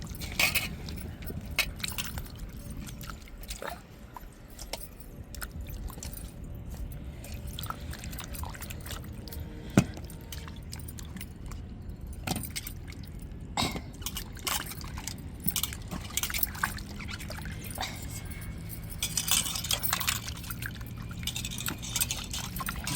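Tubers being washed by hand in a vessel of water in a home kitchen, with soft sloshing, splashes and occasional clinks and knocks against the container, fairly quiet and close.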